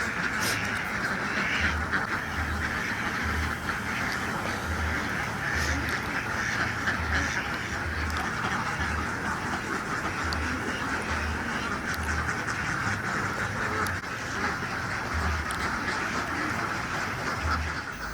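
A flock of about a thousand Mojosari and Peking hybrid ducks quacks continuously on a farm pen beside rice paddies, a dense, steady chorus of overlapping calls with low rhythmic pulses underneath.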